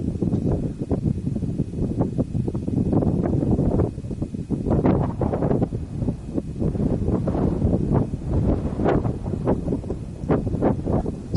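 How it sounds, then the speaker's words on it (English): Gusty wind on Mount Engadine in Kananaskis Country, Canadian Rockies, buffets the microphone in loud, rough bursts that keep coming without a break. "The wind is picking up just a little bit."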